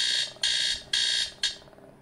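An alarm tone from an Infinix Smart 6 HD phone plays as a bright, high beeping pattern, with four sharp-onset pulses that each fade slightly before the next, repeating at a quick, regular rhythm, close and alone.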